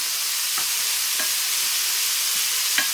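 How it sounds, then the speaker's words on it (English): Chicken meat fries in a pan with a constant, bright sizzling hiss throughout, punctuated by a few faint spatula scrapes and stirring taps. "insert the meat into the pan"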